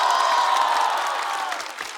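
Studio audience applause and cheering for a stand-up comedian on a comedy competition stage, a steady dense clapping crowd that gradually thins toward the end.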